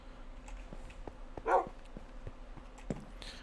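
A dog gives a single short bark in Minecraft, with a fainter yip a moment later, against quiet background noise and soft ticking.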